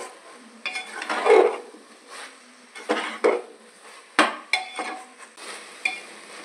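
Soya chunks being stirred and fried for kosha in a pressure cooker, with repeated scraping bursts of the spoon against the pot over a soft sizzle, close and moderately loud, no voices.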